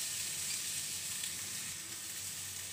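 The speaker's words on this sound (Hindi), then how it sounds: "अब हम इसमें शिमला मिर्च को ऐड करेंगे, शिमला मिर्च को भी हम हल्का सा भूनेंगे" Sliced capsicum lightly frying in a wok produces a continuous, moderately quiet sizzle that stays steady throughout, with no voices.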